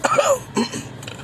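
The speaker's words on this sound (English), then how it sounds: "all I gotta do is cough one time." A single sharp, close cough, followed by a brief rougher throat sound, with no talking around it.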